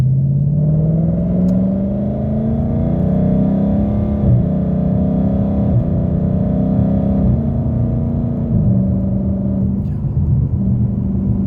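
A Ford Mustang drives with a steady, loud engine drone and rumble, the tone rising and falling through gear shifts, with faint exhaust pops in the back over the continuous noise.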